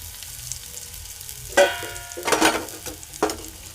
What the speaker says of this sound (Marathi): आता आपण त्याच्यामध्ये टाकूया कांदा, कोथिंबीर, कढीपत्ता आणि कांदा टाकूया आणि तो परतून घेऊ